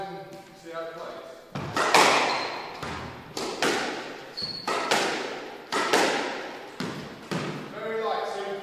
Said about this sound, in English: we'll hit a few drives and see how it plays